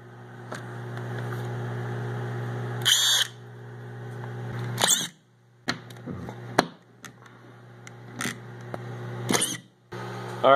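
A drywall screw gun drives screws into a junky old piece of drywall in a few short whirring bursts, separated by pauses over a low steady hum, close by.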